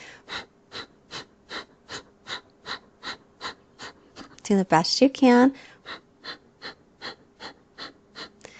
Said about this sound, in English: So short exhales through the nose.